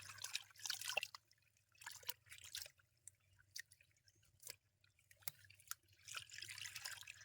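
Spring water trickling and dripping through a bottle, quiet irregular drips and splashes over a low steady hum, faint and close.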